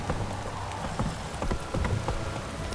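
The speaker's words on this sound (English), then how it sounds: "This downpour's a bastard, it is. Don't stop raining" Heavy rain in The Witcher 3: Wild Hunt pours down steadily with scattered sharper drops and splashes, loud and close, with no voices.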